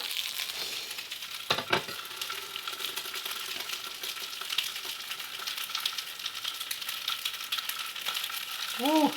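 Pieces of scrapple fry in a pan on a stovetop burner, a steady close crackling sizzle that runs throughout with a brief louder pop near the start and some faint voice sounds at the end.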